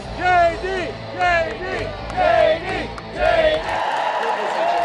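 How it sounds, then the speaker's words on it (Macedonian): A rally audience chanting "JD" together in four loud, rhythmic waves, with the crowd's voices swelling and fading on each call and then settling into a steady din of cheering and noise. "целата публика ќе почне да извикува JD"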